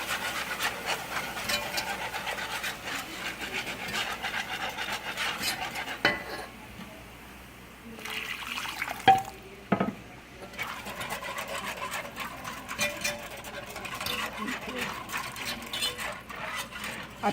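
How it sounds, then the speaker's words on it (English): Chicken stock is poured slowly into a flour roux for gumbo while a whisk scrapes and clinks rapidly against the pot, with a brief lull midway before the busy metallic whisking resumes. "going to pour the chicken stock slowly. And whisk as I go"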